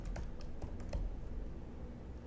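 Rapid typing on a computer keyboard, a quick run of light clicking keystrokes over a steady low background hum, close and moderately loud, with no voices.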